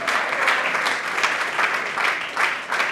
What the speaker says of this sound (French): Papa Kofi, est-ce qu'on peut applaudir bien fort de ce 30 ans de carrière?